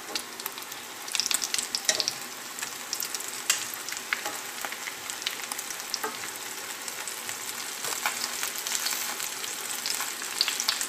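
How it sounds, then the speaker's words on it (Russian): Steady crackling sizzle of chicken frying in a hot pan, with dense spitting pops throughout and no voices. "И точно так же жарим с другой стороны."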